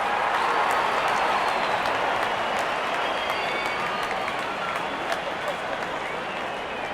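Spectators at a West Indies versus Australia cricket match applaud steadily for a batsman's half-century, a dense wash of clapping with some crowd noise mixed in.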